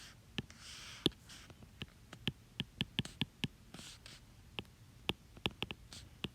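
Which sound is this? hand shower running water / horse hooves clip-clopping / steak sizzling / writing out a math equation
writing out a math equation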